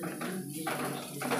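A spoon mixes garam masala powder into onions in a pan, giving soft scraping and light metallic clinks at close range, with a voice faintly present.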